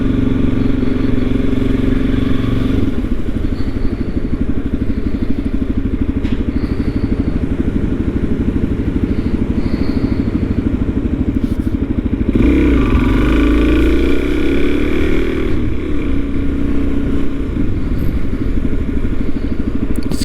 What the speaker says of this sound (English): And this is why I love the motorcycle.